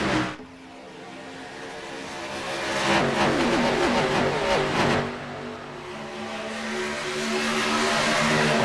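Race trucks launch together on a restart in an iRacing truck series event, a loud, sustained roar of several engines revving and accelerating that swells and holds as the pack pulls away.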